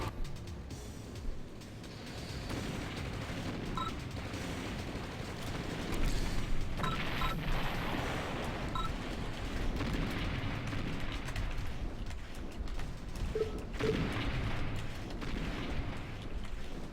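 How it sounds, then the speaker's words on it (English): Artillery barrages and gunfire in the real-time strategy game OpenRA, a continuous dense rumble of distant explosions and booms that swells partway through and stays steady, with scattered sharper blasts and no voices. "So many artillery."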